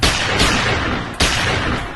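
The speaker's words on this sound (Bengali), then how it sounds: "হঠাৎ গুলির শব্দ" Gunfire breaks out during a violent clash right after midday prayers: a couple of sharp reports punch through a continuous roar of crowd and background noise.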